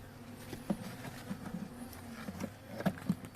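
Faint, steady buzzing of many honey bees in a hive infested with wax moths and varroa mites, with soft taps and clicks scattered throughout.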